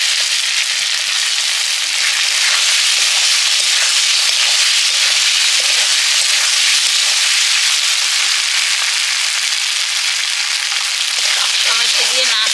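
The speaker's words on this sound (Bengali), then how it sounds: "টমেটো দিয়ে নাড়তে নাড়তে আমি হলুদ গুঁড়ো লঙ্কা গুঁড়ো দিয়ে দিচ্ছি" Chopped tomato sizzling loudly in a pan with ginger-garlic paste, stirred now and then, a steady bright frying hiss throughout with a few louder spits near the end.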